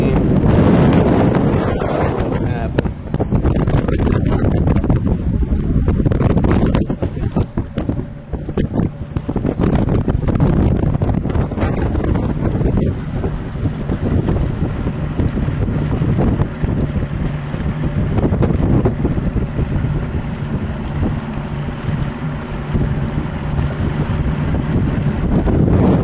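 A motorboat engine drones steadily while moving across Beltzville Lake, heavy wind buffeting the microphone, with occasional faint electronic beeps.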